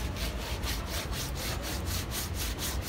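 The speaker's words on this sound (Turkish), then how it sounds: "Adı üstünde su zımparası, suyla yapılan bir işlem arkadaşlar." Wet sandpaper is rubbed back and forth over a fibreglass-coated model submarine hull in a quick, steady rhythm, a close, gritty scrubbing with no voices.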